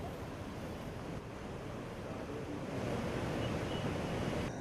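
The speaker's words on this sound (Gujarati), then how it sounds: "બેરેજની બીજી તરફ નદીમાં પાણીની પુષ્કળ જાવક થઈ રહી છે" Heavy water outflow pours from the opened gates of Vasna Barrage into the Sabarmati River during a flood release, a steady broadband rushing roar that swells slightly louder near the end, with no voices.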